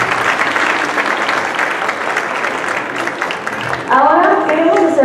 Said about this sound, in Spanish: Nuevamente a ellos un fuerte aplauso, por favor